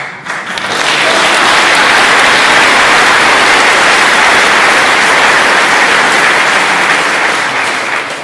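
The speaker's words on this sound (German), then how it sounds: "Applaus" A crowd at an outdoor protest rally against Ramstein Air Base bursts into loud, sustained applause, a dense wash of clapping that rises quickly and holds strong before tapering slightly at the end.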